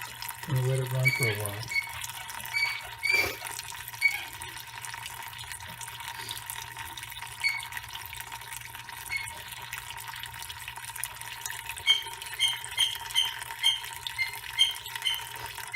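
Water running steadily through sand in a can, a continuous trickling flow with occasional high squeaks from a dog's toy, and a short burst of speech near the start.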